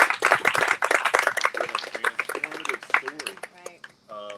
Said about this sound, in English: Let's give him another hand clap for that.